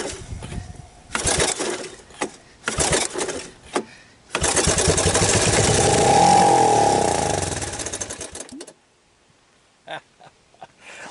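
A long-abandoned Suzuki ATV engine, revived with starting fluid, sputters through several short cranking bursts, then catches and runs loudly and roughly for about four seconds before cutting out, followed by a few faint clicks.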